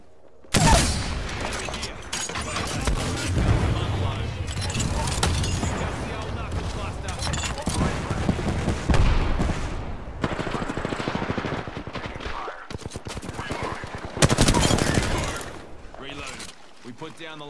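Knuckle cluster weapons firing in a video game, with dense bursts of rapid gunfire and booming blasts running throughout, loudest at the opening and again near the end, mixed with game noise.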